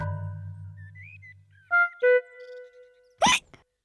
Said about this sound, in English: George still has hiccups.